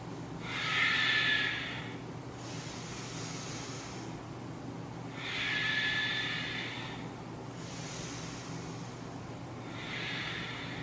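Forceful breath-of-fire exhalations during a yoga flow, three strong hissing bursts of air at steady intervals, close and clear with no talking.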